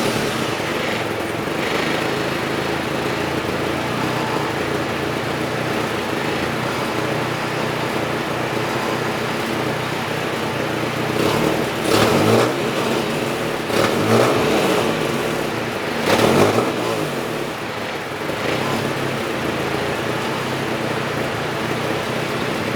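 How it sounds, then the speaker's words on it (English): A Nissan 240SX S13 with a badly leaking, gasketless exhaust idles roughly, then revs in a few sharp bursts that rise and fall, loud and close, with no talking. "I'm about to do a little startup of the current exhaust"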